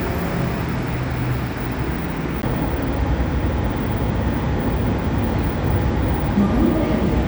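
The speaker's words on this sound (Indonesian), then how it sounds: "The train heading to Duku Atas is going to leave platform" A light rail train rumbles and rattles steadily as it pulls away from the platform, a loud continuous roar of wheels and carriages close by.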